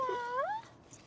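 A single clear cat meow rises and bends in pitch, close and fairly loud, lasting about half a second before fading into quiet room noise.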